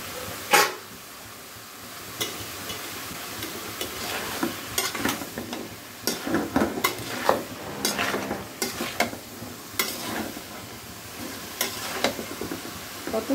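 Vegetables stirred and fried in a pan for a chicken vegetable dish, with a steady sizzle under repeated scraping and clacking strokes of a spatula against the pan, close and moderately loud throughout.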